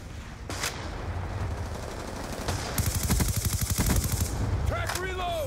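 Gunfire during a Black Ops 2 team deathmatch, scattered sharp shots followed by a fast automatic burst of rapid, evenly spaced rounds, loud and close, with faint game sounds after.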